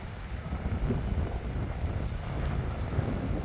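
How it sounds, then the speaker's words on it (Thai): Strong storm wind buffets a phone microphone in Songkhla province, Thailand, a loud, steady roaring rumble with gusty swells throughout and no voices. "กล้องสั่นเลย เพราะว่าลมแรงนะครับ"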